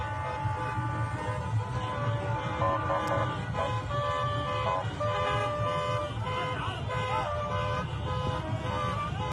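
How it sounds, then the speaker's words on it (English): Car horns honk repeatedly in a street celebration in Iraq after World Cup qualifying, overlapping toots and longer blasts over traffic noise and crowd voices, with people talking throughout. "People obviously honking"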